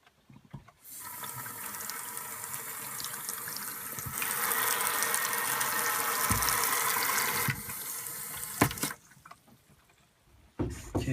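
Water running from an RV faucet fed by a city water line through a garden hose, a steady rushing hiss that swells louder midway, then cuts off, followed by brief clunks.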